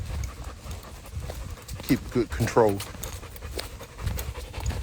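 A Belgian Malinois on a nature trail walk pants in quick, soft breaths close by, rising in a few short louder bursts, while someone speaks over it.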